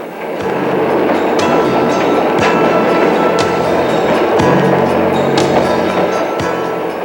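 Passenger train wagon rolling on rails through western Canada, a loud steady rumble with rhythmic clickety-clack of wheels over rail joints, heard from inside, with no talk.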